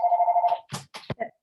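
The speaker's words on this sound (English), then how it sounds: "think it's someone ringing my doorbell" Doorbell ringing at home, a rapid electronic trilling tone for about half a second, followed by a few brief clattering sounds and short noises.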